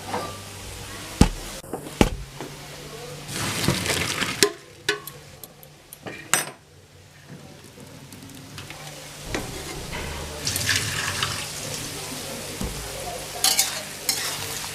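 Vegetables for egg chowmein fry in a hot pan, stirred again and again, giving a loud sizzle with bursts of scraping and sharp clanks of the spatula against the metal, quieter in the middle, and no talking.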